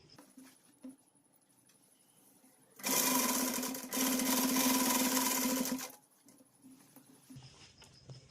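A sewing machine stitches a button placket on a girl's Pathani suit in one loud, continuous run of about three seconds, with a short break partway through. Quiet room sound and soft handling come before and after.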